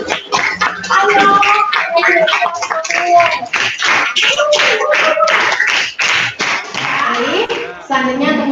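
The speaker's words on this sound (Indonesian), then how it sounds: "Untuk mengakhiri kegiatan dari Bu minta tepuk tangan yang meriah" A classroom applause closing a teaching-practice lesson on Indonesian banking, steady clapping from many hands sustained for several seconds, with voices chattering underneath.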